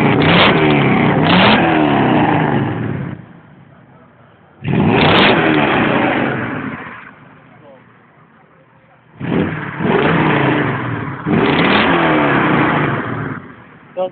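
A Mercedes six-cylinder engine revs hard in repeated loud, close bursts that rise and hold, then drop back to idle between pulls.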